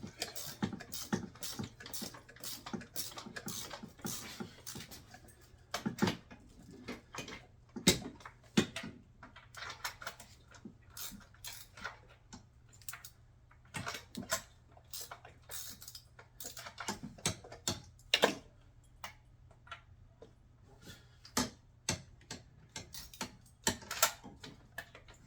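Ratchet wrench clicking in a home garage while loosening car spark plugs, bursts of sharp ticks and clacks repeating irregularly throughout, fairly close, over a low steady hum.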